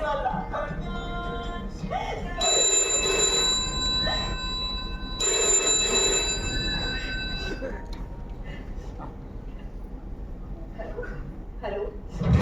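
A telephone bell rings in two distinct bursts during a stage drama, each ring sustained for a few seconds against a steady background of room noise and murmur.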